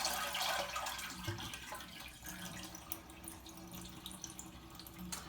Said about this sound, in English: flushing it and allowing all that water to drain out.